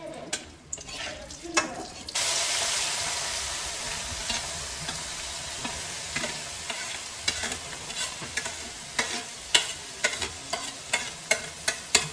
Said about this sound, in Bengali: আর এখানে আলু ভাজা বসিয়েছি